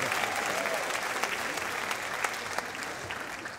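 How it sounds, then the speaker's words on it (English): Steady, dense applause from a pageant audience, moderately loud and continuous with a few louder individual claps, lasting several seconds. "Let's give her another round of applause."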